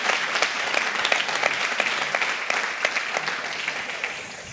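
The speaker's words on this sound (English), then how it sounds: "I think we should give an applause to that because it's a lot of work for that." An audience at a healthcare conference claps for the organizers, dense steady applause lasting a few seconds and fading slightly at the end.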